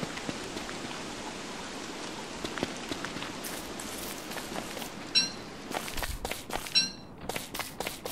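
Steady in-game rain from Don't Starve hisses as a continuous wash of drops, with a few louder patter bursts and crisp clicks near the end as the shower cuts off, no talking.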